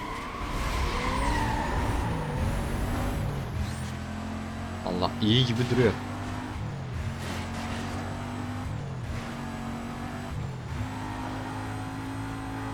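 Race car engine in a Need for Speed: Most Wanted drag race, revving loudly and climbing through repeated upshifts with rising and falling whine, someone talking over it.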